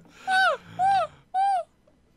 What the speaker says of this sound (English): give me a bit more seagull.